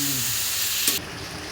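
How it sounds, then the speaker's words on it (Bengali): Chicken curry meat being sautéed in a pan, with a steady close sizzle and hiss throughout and a brief clatter near the middle as the pan is covered. "এবার বারবার করে আমরা ঢাকা চাপা দিয়ে মাংসটাকে ভালো করে কষিয়ে নিচ্ছি"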